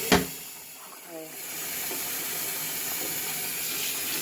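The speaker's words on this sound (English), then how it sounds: "I'm used to hot water, so it's pouring like that." Hot water pours steadily into a kitchen sink while cooked meat is drained, a continuous hissing rush after a brief knock, with a voice briefly heard near the start.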